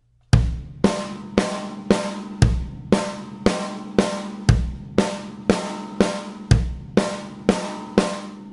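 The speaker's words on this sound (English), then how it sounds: "Step two would be to take it to the drum set between the kick drum and the snare drum." Drum kit playing a simple beat on kick drum and snare drum, about a dozen evenly spaced, punchy hits in a steady rhythm, close and loud with no talking.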